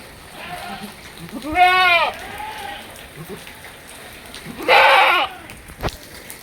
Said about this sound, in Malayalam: ഒരു മലബാരി ഇനത്തിൽപ്പെട്ട പാലാട്